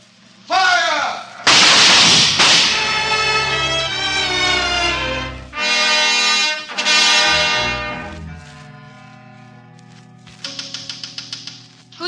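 A firing squad's rifle volley for a radio drama bursts out as loud, sharp blasts with long echoing tails, followed near the end by a quick rattle of smaller cracks.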